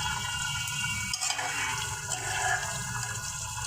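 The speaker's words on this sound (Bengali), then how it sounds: "তরকারিটা ভালো মতন নেড়ে দিছি" Curry of tilapia fish with potato and eggplant stirred in a pot, a steady wet swishing and sizzling bubbling that runs continuously and fairly loud, with no voices over it.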